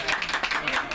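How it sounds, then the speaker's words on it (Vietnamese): Wedding guests clap together during a Vietnamese tea ceremony, a brief dense burst of applause close by, with some voices mixed in. "Vỗ tay."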